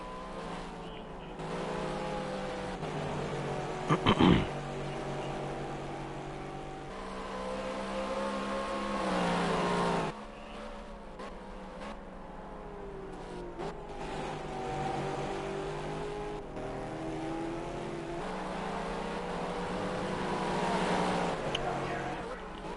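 Race cars in a racing video game lap the Spa circuit, their engines droning and shifting pitch beneath continuous commentary.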